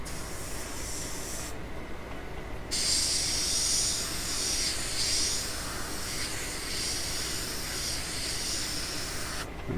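An airbrush sprays gold paint onto a cosplay prop hand in a steady close hiss that cuts out briefly near the start, then resumes and runs almost to the end.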